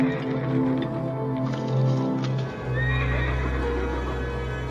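A horse that survived four days buried in the cold, heard up close and alone with a loud, steady animal sound, some snorting and whinny-like calls and faint hoof movement.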